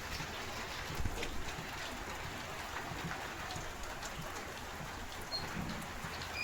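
Rain falls all day on an outdoor spot, a soft, continuous hiss of drops that stays even and faint throughout.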